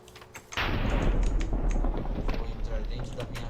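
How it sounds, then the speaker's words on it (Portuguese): An explosion in the Minecraft video game arrives as a sudden loud boom, followed by a dense rumbling roar that holds for several seconds and slowly tapers. "Explodiu alguma coisa."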